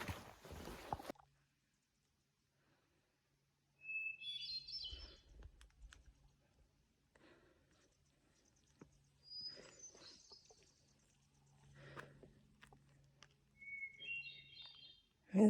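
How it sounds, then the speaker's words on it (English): Several wavering, high-pitched bird calls ring out at intervals over a quiet background, with faint rustling and small knocks between them. "Bird calls. I think it's a loon or something."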